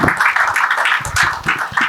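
Audience applauding at an innovation event in a JW Marriott hall, a steady dense burst of clapping from many hands, loud and close.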